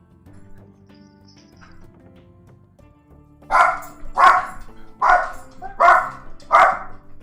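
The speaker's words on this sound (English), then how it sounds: "I hear a very loud doggo" A dog barks loudly five times in a steady rhythm, close by, after a few seconds of quiet low tonal background.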